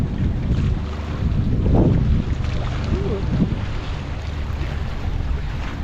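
Strong wind buffets the microphone over choppy lake water slapping at a campground shoreline ahead of a storm, a steady loud roar throughout with a short exclaiming voice.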